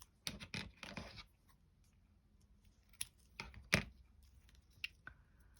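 Scissors cut a paper strip for a junk journal page, a few close, crisp snips and rustles separated by short quiet gaps.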